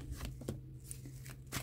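Tarot cards being shuffled by hand, several quick riffling bursts close up, fairly loud, with no talking.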